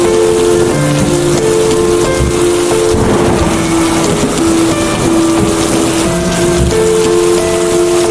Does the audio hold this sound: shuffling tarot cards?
no